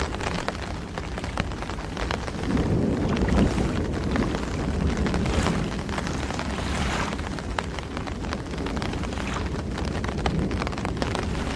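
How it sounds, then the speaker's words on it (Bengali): Stormy wind gusts outdoors by a dark pond during a Baisakh storm, a steady broadband roar with rain-like patter, continuous and fairly loud throughout, with no voices. "শো শো বাতাসের গতি বেড়েই চলেছে।"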